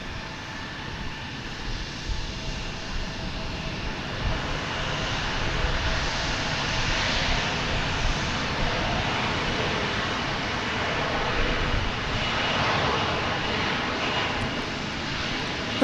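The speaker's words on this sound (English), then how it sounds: "That was flight 2621 arriving from Milwaukee, an Airbus A320" An Airbus A320 airliner arriving at a major airport, its engine roar steady and broadband throughout, fairly loud and continuous with no voices.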